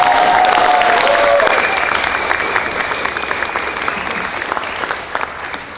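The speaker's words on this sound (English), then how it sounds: "let's give them another round of applause." Loud applause from an audience at a Q&A session, a full burst of many hands clapping that gradually thins and softens toward the end.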